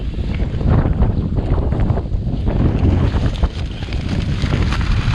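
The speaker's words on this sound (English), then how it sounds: "that gust was absolutely horrendous" Strong wind gusts batter a tent during a winter storm in the mountains, a loud, continuous roaring rush with buffeting surges and rattling flaps, close to the microphone and filling everything.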